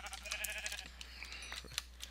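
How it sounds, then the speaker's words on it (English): Sheep bleating in Minecraft, faint and repeated over a steady low background hum, with a few short game sounds mixed in. "Ooh, sheep."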